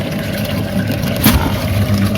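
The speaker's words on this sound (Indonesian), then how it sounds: "Ini adalah tempat mesin pompa." The pump in a hydroponic pakcoy growing setup runs with a loud, steady, low mechanical drone and a faint watery wash, plus one brief knock partway through.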